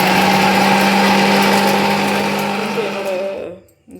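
A mixer grinder grinding pepper whirs steadily at high speed, a loud continuous motor drone that winds down and cuts off near the end.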